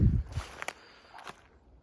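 A Laika hunting dog running on a walk outdoors, a few quick, light footfalls and rustles close by, brief and fading into quiet.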